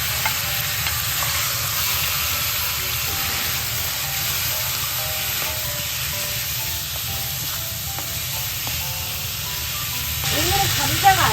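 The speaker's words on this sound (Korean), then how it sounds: "그래서 기름을 두르고 고기를 먼저 볶아줄게요." Garlic-marinated meat frying in oil in a pan for a curry, a steady close sizzle with occasional stirring scrapes, under someone talking.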